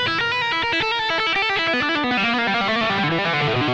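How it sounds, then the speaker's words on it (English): A 2017 Gibson Les Paul Standard T electric guitar played on its bridge humbucker gives a driven, distorted tone: a run of picked notes and chords, loud and sustained with no talking. "So starting with just the bridge pickup, none of this fancy business going on,"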